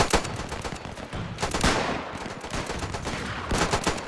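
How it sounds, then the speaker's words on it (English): Rapid gunfire in the WW1 shooter Between Empires, with dense bursts of rifle and machine-gun shots cracking back and forth throughout, several loud volleys standing out over a continuous battle din. "This guy's firing all the way back to spawn."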